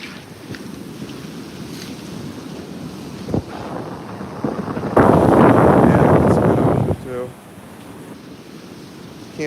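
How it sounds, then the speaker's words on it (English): Wind buffets the microphone at a rocky ocean coast while waves wash in, one surge building into a loud rushing break before dropping away, with a person's voice briefly heard. "Can't beat the ocean."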